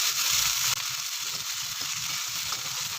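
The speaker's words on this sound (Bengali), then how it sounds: "এবার পেঁয়াজটা আমি ভেজে নেব যতক্ষণ না পর্যন্ত এটা ব্রাউন কালার আসছে" Chopped onions sizzle and crackle in hot oil in a pan while browning for mutton keema ghugni, a steady close frying hiss with occasional stirring.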